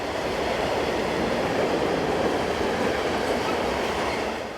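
Swiss Re 6/6 electric locomotives 611 and 11319 double heading a train at Goschenen, a steady loud rumble of rolling stock with faint clatter of wheels on rails, running continuously without pause.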